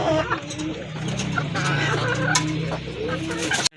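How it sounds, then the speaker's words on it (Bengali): A domestic hen, one of several desi chickens at a poultry sale, clucks in short repeated calls, with other birds around and someone talking over them. "কিন্তু আরেকটা মুরগি আছে, এটা হচ্ছে ব্ল্যাক কালারের ভিতরে"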